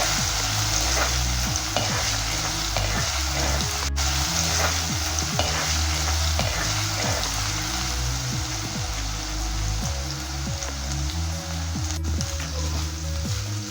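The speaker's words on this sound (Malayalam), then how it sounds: "അടുത്തതായി ഇഞ്ചി, വെളുത്തുള്ളി പേസ്റ്റ് ഇട്ട് ഒന്ന് മൂത്ത് വരണം." Ginger-garlic paste fries with dried red chillies and spices in oil for pepper chicken, giving a continuous dense crackling sizzle with occasional stirring, over a steady low rhythmic musical backing.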